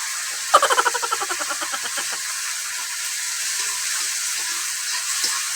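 Food sautéing in a hot pan in a home kitchen: a loud sizzling burst as it hits the oil, rapid crackling pulses that die away, then a steady close hiss with no talking.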